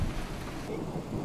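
Steady rain and rumbling thunder of a video game thunderstorm fill the whole stretch as a continuous loud wash, with a slight shift midway.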